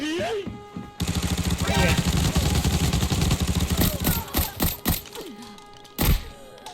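Heavy repeated shotgun fire from a USAS-12 in the shooter game Arena Breakout, a dense run of loud close blasts for several seconds, then scattered single shots with gaps toward the end.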